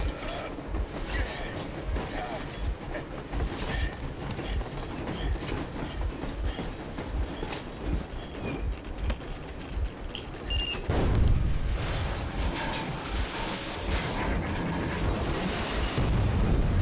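Train departing in the game Metro Exodus: dense mechanical rumbling and clanking that swells louder partway through, with occasional bursts and pops over a continuous roar.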